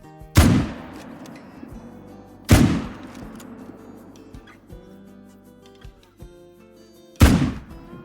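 Hunting rifle shots aimed at whitetail deer in the Call of the Wild hunting game: three loud, sharp reports, two close together early and a third after a long pause, each with a decaying echo over quiet ambient background.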